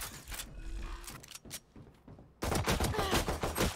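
Rapid gunfire bursts in the video game Valorant, sharp close cracks in quick clusters, a short lull, then a dense loud volley.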